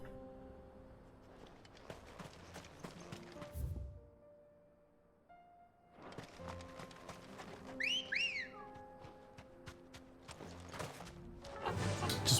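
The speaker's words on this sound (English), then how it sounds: "Just wolf whistle at the chocobo." In the Final Fantasy XVI video game, a rising-falling two-part wolf whistle calls a chocobo, brief and fairly clear over quiet game music and clip-clopping hooves.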